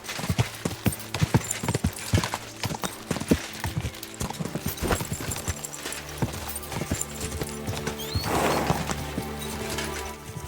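Horse hooves galloping in a race in the medieval video game Kingdom Come: Deliverance II, a fast, loud, close clatter of clip-clopping strikes with a brief whinny and rushing motion late on.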